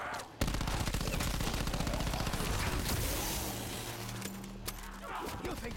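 Rapid automatic gunfire from a weapon in Black Ops 4 Zombies, a dense sustained burst that runs loud and close through most of the stretch before easing off toward the end, with a voice talking over it.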